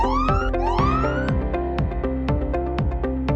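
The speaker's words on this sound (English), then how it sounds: "This then triggers the alarm." A loud electronic fire alarm wails with rising, sweeping tones, then settles into a repeating pulsing pattern, close and continuous.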